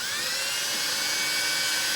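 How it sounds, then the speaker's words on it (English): A small drill spins a 1/16 inch bit into thin wood for a marten box trap, giving a steady, close, high-pitched whine that holds at an even level throughout without any voices. "when you're drilling with a 1/16 inch bit like this, don't apply too much pressure"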